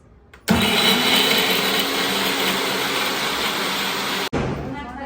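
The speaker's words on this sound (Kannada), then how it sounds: "ನೋಡಿ ಇವಾಗ ಇವ್ರ ಮನೆ ಮಿಕ್ಸಿ ಚೆನ್ನಾಗಿದೆ ಗೈಸ್" A loud mixer grinder starts abruptly and whirs steadily for about four seconds, then cuts off sharply, with a faint motor hum continuing after.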